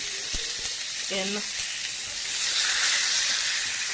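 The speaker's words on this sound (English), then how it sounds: "You want to hear that crisp, that sizzle" Lamb shanks searing in a hot pan give a steady, loud sizzle and crackling hiss up close, swelling slightly toward the end, with a brief spoken word early on.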